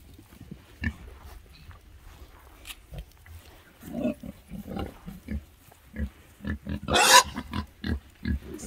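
A wild boar out of the woods near a house grunts and snorts in short irregular bursts, close by, with a louder squeal-like burst partway through and a faint voice in the background.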